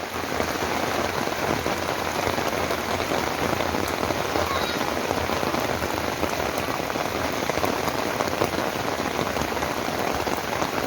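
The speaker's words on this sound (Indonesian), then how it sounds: "Hujan deras." Heavy rain pours steadily onto surfaces at a campsite with tents, a dense continuous patter of drops without pause, no voices heard.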